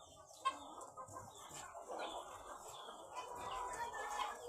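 Domestic chickens on a Philippine farm cluck softly and continuously, with short scattered calls from nearby birds over a low background rustle. Nobody speaks.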